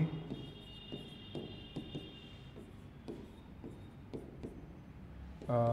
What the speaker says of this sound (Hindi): जैसे मैं लिखता हूँ यहाँ पर